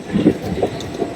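A train arriving at night at Jhaluarber station in West Bengal gives a brief, low, rumbling roll with soft clattering, heard at moderate loudness without talk.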